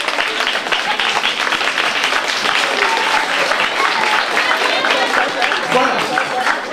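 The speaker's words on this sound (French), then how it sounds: "Donc, sur ce, vous devez applaudir." Audience at a school ceremony applauding steadily and loudly, dense clapping filling the whole stretch with a few voices mixed into the crowd.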